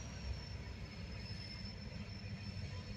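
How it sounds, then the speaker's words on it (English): Rochester and Southern locomotive BPRR 2031 rolls past with a steady low rumble of wheels and cars, continuous and fairly distant, with no talk over it. "we got a new locomotive on the Buffalo and Pitts on the Rochester and Southern BPRR 2031"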